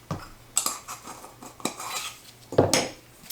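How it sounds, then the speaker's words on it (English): A utensil stirs spices through vegetable soup in a crock-pot, knocking and scraping against the pot in irregular clinks and clanks, close and fairly loud. "We're just going to mix all this in."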